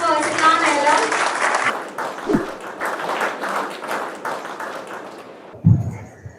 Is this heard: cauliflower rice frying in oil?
no